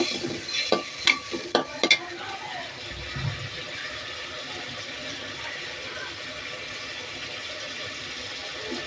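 Beef pieces braising in a pan as they cook down, with a few sharp clinks of a spoon stirring at the start, then a steady low sizzle and bubbling carrying on alone.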